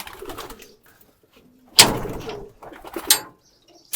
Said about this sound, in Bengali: এই ঘরটাতে যে কবুতরগুলো ছিল